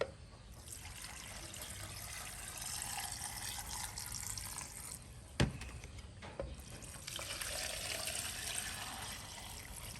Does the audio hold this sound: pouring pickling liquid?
yes